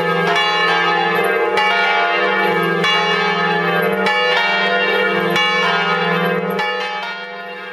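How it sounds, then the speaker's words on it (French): Church bells across France ring in full peal at 11 o'clock on 11 November 1918, loud overlapping metallic strikes clanging continuously with rich ringing overtones, fading slightly at the end. "toutes les cloches de France sonnèrent à la volée"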